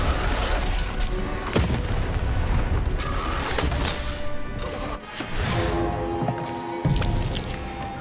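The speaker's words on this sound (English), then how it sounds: "Shoot the button to fire the cannon." A cannon fires with a heavy booming blast in the video game Lost in Random, the dense rumble rolling over continuous game noise and music, with another impact near the end.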